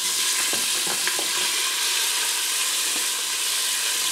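Trimmed chuck roast sears in an Instant Pot on the saute setting with a steady, close sizzle and crackle of frying fat.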